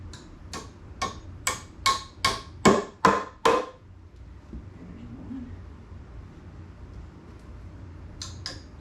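A run of sharp hammer blows nailing into wood wall framing, eight strikes in a steady rhythm, close by, then a pause and a few quicker taps at the end.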